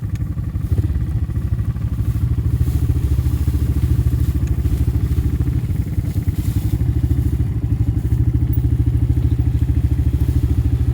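A small 70 or 90 cc dirt bike engine runs steadily and loudly up close as the rider heads downhill, its low buzzing drone constant throughout, with occasional thuds and rattles from the bumpy ground.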